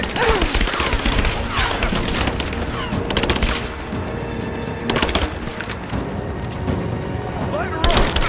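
Gunfire in Rise of the Tomb Raider, a dense, loud fusillade of rapid shots and booms continuing throughout, with shouted voices mixed in among the shots.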